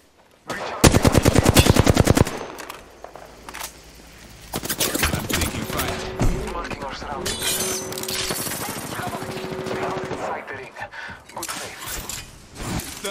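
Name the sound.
gunfire in the video game Apex Legends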